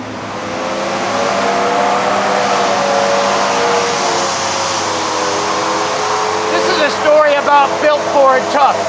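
Ford F-Series Super Duty pickup truck engine from the 2008/2009 lineup revving hard and close, a loud sustained roar with rising harmonic tones, followed by a few choppier throttle blips near the end.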